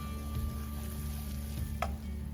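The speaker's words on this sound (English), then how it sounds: "now that the butter has melted, I'm going to add some cumin seeds and some hing. Saute it for a few seconds" Cumin seeds and hing sautéing in melted butter for pav bhaji, a soft continuous sizzle with faint stirring scrapes and one brief clink, close and fairly quiet.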